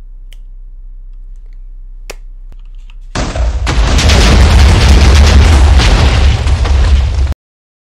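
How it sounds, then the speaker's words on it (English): A spaceship blowing up in Minecraft: after a near-silent stretch with a couple of faint clicks, a sudden loud roaring explosion bursts in and rumbles densely for about four seconds before cutting off abruptly. "the ship will explode"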